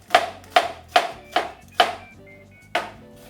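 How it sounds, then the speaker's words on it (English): A knife chops a small onion in a healthy cooking demonstration: six sharp, close knocks, five in a fairly even rhythm and then one more after a short pause. "either a small onion or half a medium onion. Go ahead and get that chopped up."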